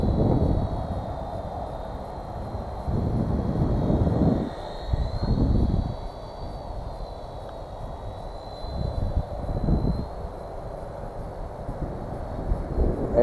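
A WLtoys V930 brushless flybarless RC helicopter flies outdoors in wind on its maiden flight, giving a thin, steady high-pitched motor whine that shifts in pitch as it moves, over gusty wind noise on the microphone.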